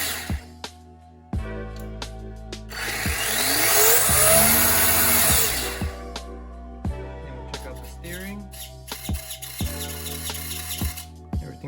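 An RC vehicle's electric motor on a 3S battery pack whines up into a loud rising and falling rev, set between sharp ticks and clicks, with a voice talking faintly at points.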